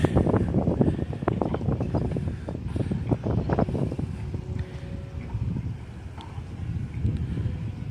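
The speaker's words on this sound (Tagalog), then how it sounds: "So ayan na naman yung hangin." Steady coastal wind buffets the microphone with a low rumbling roar, gusting throughout, with faint water and boat sounds underneath, at a coastal road construction site in Davao City.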